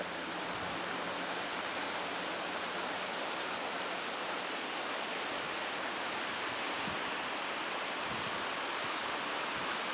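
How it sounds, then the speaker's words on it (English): Fresh Rocky Mountain stream water rushes and tumbles down in a continuous, loud, broadband roar, steady and close throughout with no voices over it. "here's the waters coming down. Those nice, fresh Rocky Mountain water."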